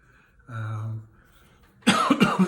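A single cough near the end, loud and close, after a brief throat-clearing sound earlier.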